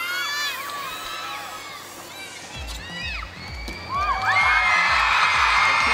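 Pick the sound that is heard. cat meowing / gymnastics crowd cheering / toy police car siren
gymnastics crowd cheering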